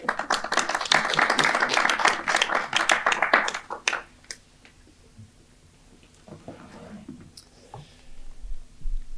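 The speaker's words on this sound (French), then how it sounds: "ça mériterait des applaudissements de nos intervenants, et je vais le faire donc," A single person claps alone after a talk at a French-language meeting, a burst of fast, close hand claps lasting about four seconds, then fading into quiet room tone with a few faint knocks.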